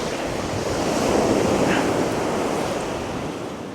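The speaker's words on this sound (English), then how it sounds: "The waves have died down, it seems like." Surf breaking steadily on Preston beach at Weymouth, a continuous broadband wash of waves with some wind rumble on the microphone, close and fairly loud with no talk throughout.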